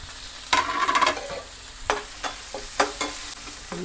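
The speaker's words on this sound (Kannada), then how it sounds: "ಚೆನ್ನಾಗಿ ಫ್ರೈ ಮಾಡ್ಕೋಬೇಕು" Egg masala with green chillies, curry leaves and tomato sizzles in a pan, punctuated by several sharp scraping stirs at an irregular rhythm, close up, with no talking.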